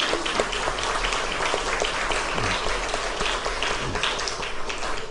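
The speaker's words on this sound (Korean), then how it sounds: "우리 함께 우리 유학생들을 위해서 격려의 박수 하겠습니다" A chapel audience gives sustained applause of encouragement for international students, a dense steady patter of many hands filling the hall at an even level with no talk over it.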